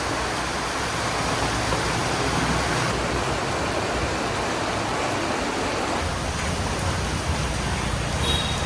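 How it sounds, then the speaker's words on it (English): Heavy rain pours down steadily in a city, a dense continuous hiss of drops pelting surfaces that stays loud and unbroken throughout, with no talking over it. "it's about to start chucking it down with rain"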